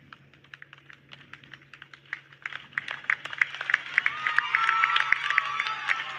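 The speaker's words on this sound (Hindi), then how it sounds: "जोरदार तालियां बजाइए आप सबकी तरफ से" Clapping at a political rally in Delhi, as Priyanka Gandhi is welcomed, swells from scattered claps into sustained, dense applause from a large crowd.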